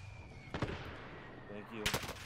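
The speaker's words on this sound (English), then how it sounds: "Oh, that's a cluster bomb, dude!" Cluster bomb blasts in Warzone, a rapid string of sharp, distant-sounding explosive cracks scattered across a couple of seconds over steady game background noise.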